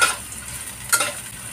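Chopped small white onions sizzle steadily in a hot pan while cooking squid adobo, a close, continuous frying hiss with a brief stir near the end.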